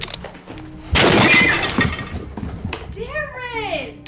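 A brand new PS5 is smashed with a hammer, making a loud sudden crash with breaking and shattering. A voice shouts excitedly through it.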